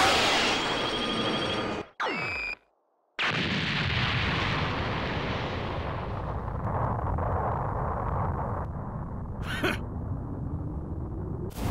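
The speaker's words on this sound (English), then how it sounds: "have a taste of Super Vegeta's Big Bang Attack!" Super Vegeta's Big Bang Attack in the Dragon Ball Z Kakarot video game, a loud booming energy blast with a sharp whoosh, a brief cut to silence, then a long roaring rumble that slowly fades, with a short crackling burst near the end.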